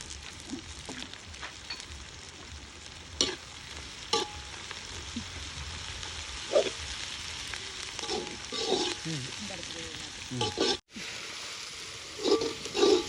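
Dried chillies sauté in hot oil with a steady, moderately loud frying crackle, broken by occasional stirring clinks and scrapes. There is a brief cut near the end.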